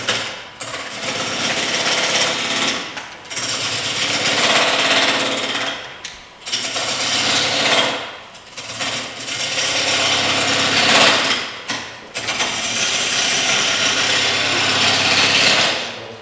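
Woodturning gouge cutting a spinning piece of wood on a lathe, loud rough grinding and rubbing in long passes of a few seconds each, broken by short pauses between cuts.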